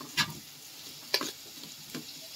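Onions and tomatoes frying together in a pan for curry: a faint steady sizzle broken by three brief scraping stirs, close by with no talking.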